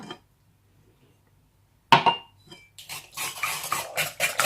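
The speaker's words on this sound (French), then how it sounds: "Vous mélangez bien de manière à ce que le sucre fonde dans le mélange." After a near-silent start, a utensil begins mixing chocolate muffin batter with sugar and oil in a bowl, producing close, irregular clinks and scraping strokes against the bowl.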